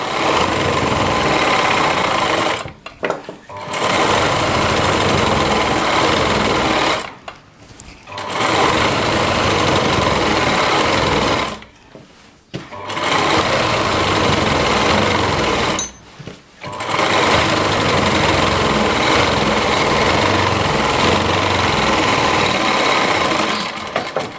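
A sewing machine stitching a heavily worked Rajputi lehenga, running in loud, steady whirring bursts broken by four short pauses, close up with no speech.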